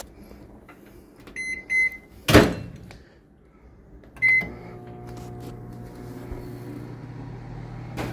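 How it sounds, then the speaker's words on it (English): A microwave oven runs with a popcorn popper inside, its steady low hum and hum of the turntable going on after a few door thunks and keypad beeps near the start. "then we're gonna put it in the microwave for about 2 to 4 minutes"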